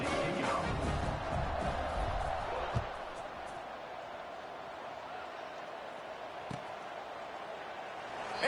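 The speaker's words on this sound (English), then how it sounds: "this crowd is buzzing after that last score" A crowd in an NCAA 26 college football video game hums with a steady, diffuse roar after a score, staying broad and continuous with a couple of faint thumps.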